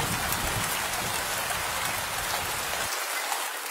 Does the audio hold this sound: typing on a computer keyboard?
no